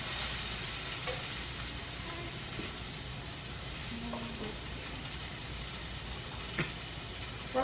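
Fish fries in a hot pan, browned around the edges, with a steady soft sizzle and hiss throughout, broken by a few faint clinks and small spatters.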